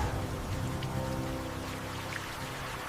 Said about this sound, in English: This rain doesn't just kill the last sparks.